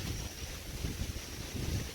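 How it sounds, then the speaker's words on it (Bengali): Wind blowing along a riverside, a steady rushing buffet with low gusty rumble against the microphone, continuous and fairly close, with no talking. "এবং কি সুন্দর হাওয়া রয়েছে।"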